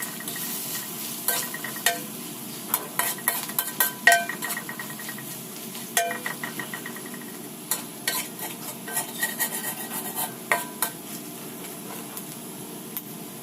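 Tomato boiler chicken curry pan as spices go in and get stirred: repeated scraping clinks of a spoon against metal over a soft steady sizzle, close and moderately loud, with no talking.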